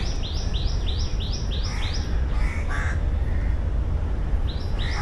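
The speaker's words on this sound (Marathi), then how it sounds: "पक्ष्यांचे पण इथे विविध प्रकारचे आवाज तुम्ही ऐकू शकता" Crows caw in quick repeated bursts, with other birds chirping, in a Mumbai nature park built on a former dumping ground, set against a constant outdoor background hum.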